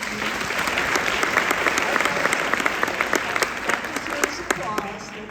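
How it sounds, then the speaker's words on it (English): An audience at an award ceremony claps steadily and warmly throughout, a dense, even wash of many hands with individual claps popping out near the front. "That deserves applause."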